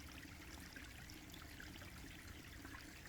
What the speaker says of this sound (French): Ce ruissellement régulier, doux, il parle à ton corps.